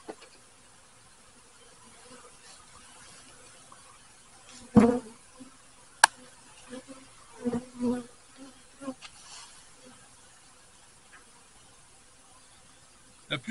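Honeybees buzzing around an open hive while the queen is handled: faint, scattered buzzing close by, with a few louder passes and soft knocks of handling against a quiet background.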